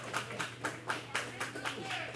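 Wrestling crowd at a Digital Media Championship match applauds both competitors with steady, rhythmic clapping that pulses in even beats over a constant low hum of the arena.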